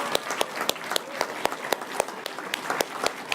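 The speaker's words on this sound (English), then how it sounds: "give a big round of applause to our 3 student winners" Audience applause for three student prize winners at a contemporary photographic prize awards ceremony and official opening: scattered, fairly sparse claps with distinct sharp individual hits, moderately loud and close, with no talk over it.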